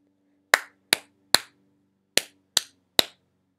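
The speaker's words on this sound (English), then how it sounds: "I'm going to clap one" Hands clap a short rhythm: six sharp, close claps in two groups of three, the first group evenly spaced and the second following after a brief pause, with silence in between.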